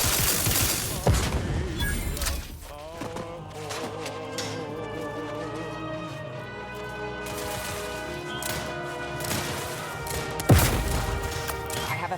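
Gunfire in The Outer Worlds 2 rings out as bursts of shots throughout, mixed with music and other game sound, with a sharp loud hit near the end.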